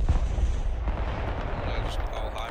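Artillery fire in the strategy game Broken Arrow rumbles as a dense, continuous barrage of low booms and blasts, loud and close, with faint talk beneath it.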